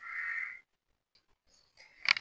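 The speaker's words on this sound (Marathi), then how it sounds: "इकडे कावळा काव काव काव काव" A crow caws in the quiet of early morning near a home kitchen, one loud, harsh call first, then a pause and a second burst of calls close by, with faint small sounds in between.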